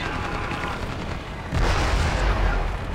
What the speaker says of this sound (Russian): Взрывы, это клево.